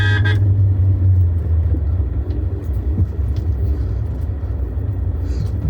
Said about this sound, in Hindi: मेरी गाड़ी केवल 5 की स्पीड पे ही चलेगी, इससे ऊपर चलेगी नहीं, क्योंकि इससे इंजन ब्रेकिंग हो रही है मेरी